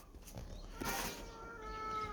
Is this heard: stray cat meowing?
yes